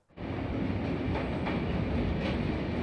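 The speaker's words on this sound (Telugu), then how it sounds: "మన ట్రైన్ వచ్చేసి ప్రస్తుతానికి గంగా నది మీద ఉన్న బ్రిడ్జ్ మీద నడుస్తుంది" A crowded long-distance passenger train from Visakhapatnam to Varanasi crosses the bridge over the Ganges, giving a steady loud rumble and rolling clatter that starts abruptly and holds evenly throughout.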